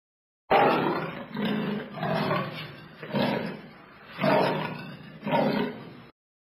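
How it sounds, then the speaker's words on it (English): A leopard roars in a series of five deep, rasping bursts, each rising and fading, loud and close with no other sounds. "Leopard."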